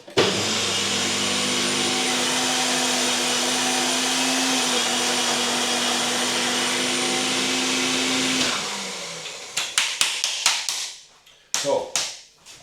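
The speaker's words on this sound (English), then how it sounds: "So basically this is now blended dry and it's blended in the powder" Countertop blender grinding dry ingredients into a powder, a loud steady motor whine for about eight seconds that winds down, followed by a few sharp knocks and clatters of the jar.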